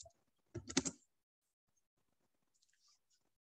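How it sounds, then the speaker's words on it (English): Typing a web search on a computer keyboard, a quick burst of key clicks lasting about half a second, close and fairly loud, followed by near silence with a few faint taps. "I will get on Google and I literally just type in travel memes"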